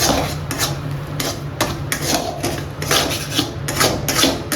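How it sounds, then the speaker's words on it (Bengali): A spoon scrapes and rubs around a pan in which sugar and jaggery melt over low gas. The strokes are close and rhythmic, scraping and clinking steadily throughout. "চিনিটা গলে যাচ্ছে যেহেতু সেহেতু এটাকে সবসময় একটু নাড়তে হবে না নাড়লেই এটা জমে যাবে"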